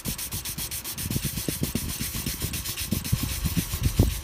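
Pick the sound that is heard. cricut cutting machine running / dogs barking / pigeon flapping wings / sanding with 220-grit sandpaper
sanding with 220-grit sandpaper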